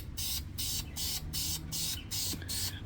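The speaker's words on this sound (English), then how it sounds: "this way you can spray the top, get them all black, and you won't get any on the thread" Black caliper paint sprayed from an aerosol can onto parts of a roof rack for a 2022 Nissan Frontier, heard as about eight short, loud hissing bursts in an even rhythm, close up with a low hum underneath.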